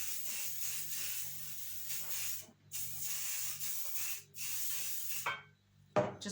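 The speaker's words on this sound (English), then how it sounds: "Just putting on some cook and spray" Cooking spray is sprayed onto a baking pan in three close, steady hissing bursts of about two seconds each, separated by short silent gaps and ending with light handling clicks.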